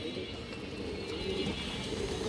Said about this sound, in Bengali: পাল্লার কবুতর এটা